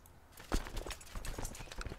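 Horse hooves clip-clopping in the video game Crusader Kings 2: a steady run of close, quick, rhythmic hoof knocks with no talk over them.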